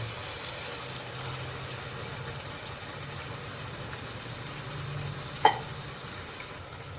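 Tomato paste is added to a curry frying in a pan, giving a steady even sizzle with one sharp clink near the end, and no one speaks.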